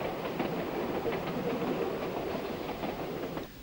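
Ffestiniog Railway train running, a steady rolling rumble with faint clickety-clack of wheels over rail joints, heard from on board and fading slightly at the end, with no voices.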